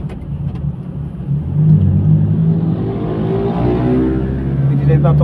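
A motorcycle engine rises and holds a steady drone as it passes close by on a mountain bike trip toward Mt. Maria in Batangas City, with people chatting underneath.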